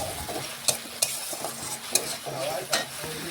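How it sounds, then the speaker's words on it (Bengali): Spice paste and chopped tomato being sautéed for a Bengali katla fish curry, a constant close sizzle with a spatula scraping and knocking the pan in an uneven rhythm, a few sharper clacks standing out, no talking. "টমেটো ভালোভাবে মশলার সাথে মিশিয়ে মশলা বেশ কিছুক্ষণ ধরে একটু কষিয়ে নেব"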